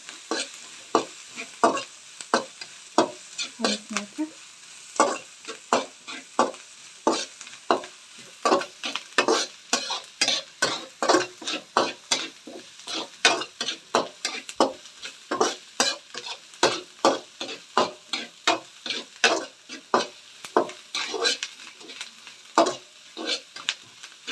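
Onions frying until they turn reddish in a pan, for a village-style uppsaru, under a steady rhythm of spatula scrapes and stirs. A soft sizzle runs underneath, close and continuous for the whole stretch.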